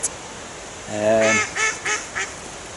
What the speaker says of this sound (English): Duck's laughing at us because we've only had one fish.